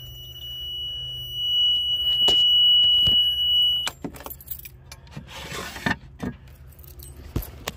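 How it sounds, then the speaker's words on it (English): A Yanmar 3QM30H marine diesel inboard hums steadily, then cuts off abruptly partway through. A few scattered clunks and small handling noises follow in the quiet. "I just pull this knob to shut the motor off."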